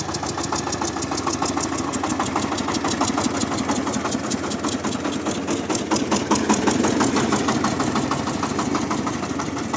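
A SHIFENG SF-240 mini tractor engine chugs steadily while planting potatoes in a tilled field, a loud, close, rhythmic single-cylinder knock with rapid regular pulses and slight surges in throttle.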